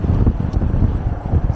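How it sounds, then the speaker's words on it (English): Gusty wind buffets an outdoor microphone on a windy day during a bike ride, producing a steady low rumble with irregular surges throughout. "It's quite a windy day today."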